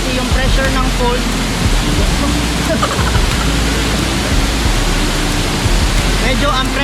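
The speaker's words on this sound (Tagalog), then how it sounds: "medyo maingay kasi yung pressure ng falls" Loud, high-pressure waterfall rushing at Wawa Dam, an arch dam in the Philippines, giving a dense, constant roar close by that fills the whole clip.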